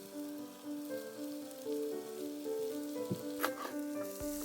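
Rice noodles for Thai Pad See Ew sauté in a pan until crispy, giving a steady close sizzle with light stirring scrapes and a brief sharp clatter near the end, and no one speaks.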